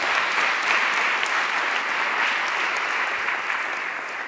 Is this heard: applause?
yes